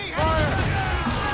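Ship cannons firing in the Assassin's Creed Rogue video game, a sudden loud booming blast with a rumbling, crackling tail lasting about a second.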